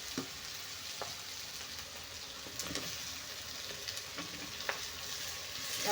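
Onions frying golden in a pan with dried red chillies, a steady soft sizzle with occasional faint stirring clicks, fairly quiet and close.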